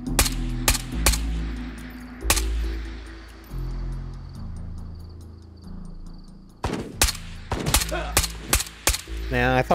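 An enemy player fires in Ghosts of Tabor, sharp gunshots cracking off in quick clusters, first a few close bursts, then a quieter lull, then another rapid volley of shots near the end.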